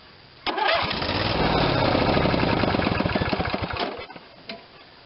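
A Briggs & Stratton twin-cylinder engine cranks briefly and catches at once, running loud and close with a rapid steady beat for several seconds before cutting off, with no talking.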